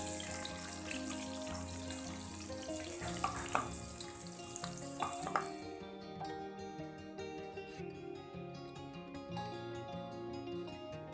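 Chopped garlic fries in oil in a pan, browning lightly, with a steady bright sizzle, occasional stirring clinks and scrapes, and a busier, denser cooking texture in the second half.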